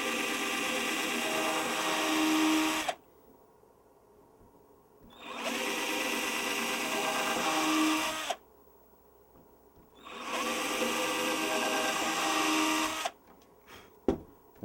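A 1.5 mm drill bit bores small pilot holes in a 50cc Sbach model airplane build, sounding as three steady, loud whirring bursts of roughly three seconds each, separated by silent pauses, close up with no talking.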